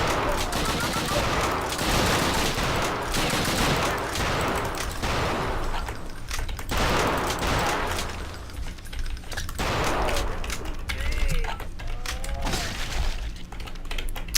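Long rapid bursts from an MG 42 machine gun in Return to Castle Wolfenstein rattle loudly in close succession, mixed with clattering mechanisms and shattering impacts.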